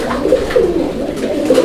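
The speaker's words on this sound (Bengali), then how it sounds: "রেসার কবুতর, রেসিং পিজন" Racing pigeons coo close by, soft throaty warbling calls rising and falling over a couple of seconds against a low background hum, with no speech.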